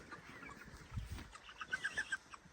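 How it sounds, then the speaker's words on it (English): Chickens housed in a chicken tractor cluck in short bursts, a few louder clucks clustering near the end over quiet outdoor ambience. "now that we're out at the chickens"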